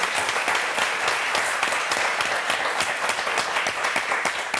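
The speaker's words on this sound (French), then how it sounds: "Sandrine et Jacqueline, qu'on applaudit très fort." Studio audience of the French game show Motus gives a loud, steady round of applause that fills the whole stretch without a break, with dense overlapping claps and no talking.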